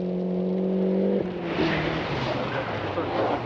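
A Ford Cosworth rally car passes on a winter rally stage, its engine note holding high then dropping as it goes by, followed by a burst of gravel spray and road noise, with a commentator talking over it.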